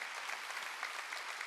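A church congregation at a Wednesday worship service claps, a dense, steady wash of hands throughout, loud and close with no pauses.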